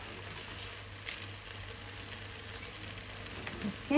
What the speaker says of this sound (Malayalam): റൈസ് നമ്മൾ കുതിർത്തി വെച്ചത് ആഡ് ചെയ്തിട്ടുണ്ട് റൈസ് ഇട്ടിട്ട് മിക്സ് ചെയ്യുമ്പോൾ ശ്രദ്ധിക്കണം